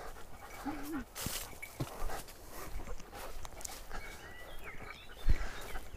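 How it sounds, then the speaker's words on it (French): A dog pants and gives short whimpers on a rough forest path, mixed with footsteps and someone talking intermittently nearby. "C'est une saigne ce chien."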